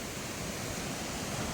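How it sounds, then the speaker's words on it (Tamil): Floodwater from a swollen river rushes past in a loud, dense, unbroken roar, close and continuous with no talk. "இங்கே பாருங்க ஃப்ரெண்ட்ஸ், எவ்வளோ தண்ணி போகுது பாருங்களேன்."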